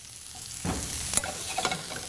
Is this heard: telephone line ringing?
no